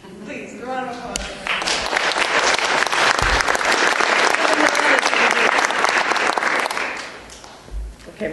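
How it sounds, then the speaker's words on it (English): A crowd breaks into applause after a speaker, a full burst of clapping that swells quickly, holds steady for several seconds, then dies away, with a voice heard briefly before it starts. "Please, a round of applause."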